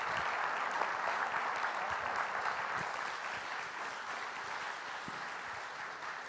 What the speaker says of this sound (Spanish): Yo creo que no alcanza a agradecer el aplauso que te entrega el público que tenemos acá